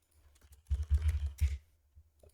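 Computer keyboard typing while writing a Roblox armor script, a quiet cluster of rapid key clicks bunched in the middle, close and soft, with no talk.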